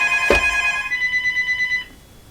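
A telephone rings once with a bright electronic trill after a sharp click, the warbling tone pulsing evenly for about a second and a half before cutting off into quiet.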